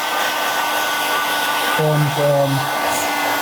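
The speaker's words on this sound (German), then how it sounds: "So, wir gehen jetzt aber wieder mit dem Föhn auf 400 hoch." A hot air gun set to 400 degrees heats a leather repair pad, blowing a loud, steady close-up whoosh throughout, with a brief spoken word partway through.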